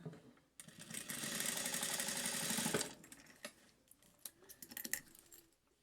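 Sewing machine topstitching a pressed seam on a zipper and lining runs loud and steady for about two seconds, then stops, followed by scattered clicks and handling noises of fabric.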